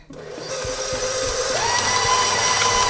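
Electric mixer whipping egg yolks and sugar for a classic lapis legit cake, switching up to medium speed with a rising motor whine that settles into a loud, steady whir with beaters rattling in the bowl.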